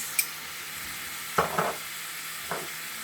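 Bell peppers and spring onions fry quietly in a pan, a low steady sizzle with a few brief scraping and clattering stirs spaced through it.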